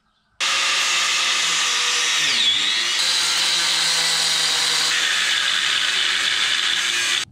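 A 125mm cutting disc on an angle grinder slices through engine parts around the crank pulley of a 2015 Mercedes-Benz C450 AMG, a loud, continuous high-pitched grind running steadily for about seven seconds with a brief dip in pitch partway through.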